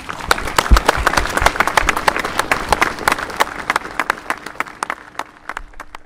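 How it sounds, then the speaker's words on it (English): Applause from the audience at an Irish Defence Forces 3rd Infantry Battalion passing out parade for new two-star soldiers, a crowd clapping steadily outdoors with distinct sharp claps standing out, holding fairly even before thinning slightly toward the end. "Please join me in a round of applause"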